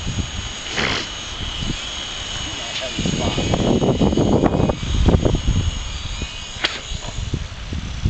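A Walkera V400D02 radio-controlled helicopter flies outdoors in a breeze, its rotor whine steady and fairly close under wind noise while people talk nearby.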